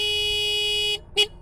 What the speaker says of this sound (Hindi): हॉर्न बजाना बंद कर यार, आ रहा हूं।